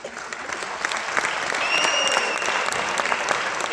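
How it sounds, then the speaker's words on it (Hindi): Audience applause during a Hindi business leadership seminar, a steady, moderately loud crowd clapping sustained throughout with a brief faint whistle-like tone in the middle. "इस बात में तालियां कमजोर है"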